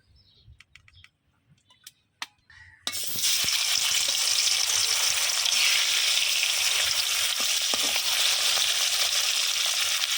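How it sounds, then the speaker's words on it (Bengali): Fish fry in hot oil in a pan, a loud, steady sizzle that bursts in suddenly after a few seconds of quiet clicks and stays dense and continuous to the end. "আমি মাছগুলো একদম লাল লাল করে ভাজা নিচ্ছি"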